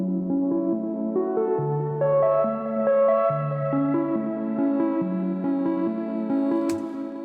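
Synth recreation of a song built with free plugins plays a warm, steady melodic line over sustained chords, notes changing every half second or so, loud and continuous with no talking.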